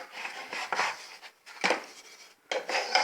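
Bread browning in a pan being turned and nudged with a bamboo stick at midnight, giving close scraping, rubbing and light clattering touches in several short bursts with brief pauses between.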